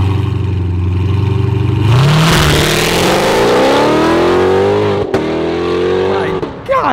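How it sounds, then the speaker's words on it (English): A straight-piped Chevrolet Corvette C7 ZR1 of nearly 800 horsepower idles with a deep burble, then erupts into a very loud rising rev that holds and climbs again after a brief break, with voices underneath. "one thing he has in his car, it is straight pipes. So that's why it's so loud right now."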